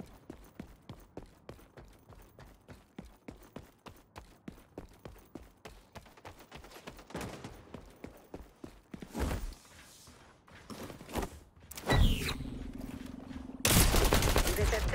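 Assault rifle gunfire in the online shooter XDefiant, rapid rhythmic bursts of shots followed by louder, denser fire and explosive blasts toward the end, with game footsteps mixed in.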